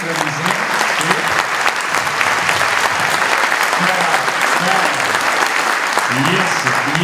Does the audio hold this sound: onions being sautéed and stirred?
no